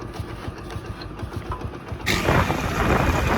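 A motorcycle engine runs steadily at a low, even idle, then revs up louder and rougher about two seconds in and holds there, close by with no talking.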